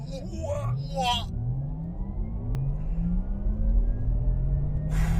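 A Porsche Taycan Cross Turismo electric car accelerates hard, its motor whine climbing steadily in pitch over a rumbling road roar. Voices talk briefly at the start and again at the end.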